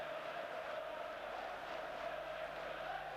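A large crowd at a 1989-90 Leeds United versus Middlesbrough football match gives off a steady, distant roar and murmur, with no standout cheers.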